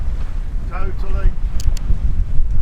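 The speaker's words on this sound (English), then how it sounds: "we are now just sailing along. So good. Lovely, we've got like 14 knots of wind, upwind" Steady wind rumble and rushing water from a sailboat sailing upwind in about 14 knots of wind near Palma, with a brief voice or two under the broad blustery noise.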